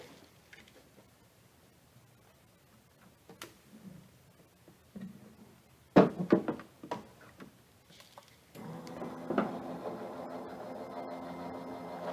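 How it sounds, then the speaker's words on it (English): Die-cutting machine with a card and metal die being run through it: quiet ticking and clicks, then a sharp clunk as the plates enter, followed by a steady mechanical grinding hum. "stays perfectly in place when we run it through our die cutting machine. So we'll just run that through."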